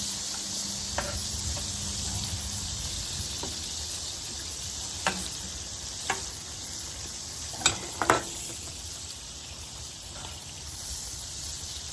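Burgers sizzling on a new grill alongside bacon and chicken breast, a steady bright crackling hiss held throughout, broken by a few faint clicks and taps.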